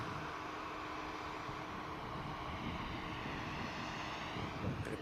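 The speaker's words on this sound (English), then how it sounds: "VistaJet. Bombardier touching down." A VistaJet Bombardier business jet touches down at Manchester Airport, its engines a steady, fairly loud broadband roar throughout, with a slight swell toward the end as it rolls out.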